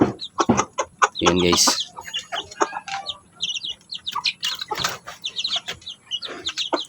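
Basilan Cross Rhode Island hens cluck and chatter close by, with a louder burst of squawking near the start, while someone talks over the birds throughout.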